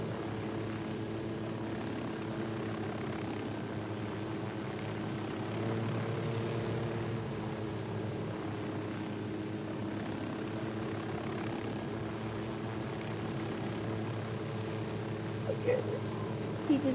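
A helicopter drones steadily at a distance, a continuous low rotor and engine hum holding even in level throughout, with a faint knock near the end.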